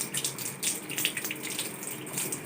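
Tap water runs steadily over hands being rinsed at a sink during a handwashing procedure, a continuous close splashing hiss with small fluctuations and no talk.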